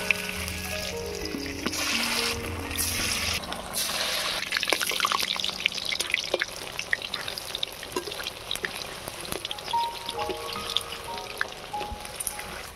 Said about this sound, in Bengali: তেল গরম হয়ে গিয়েছে, এবারে ফিশ পেঁয়াজিগুলো ভেজে নেব।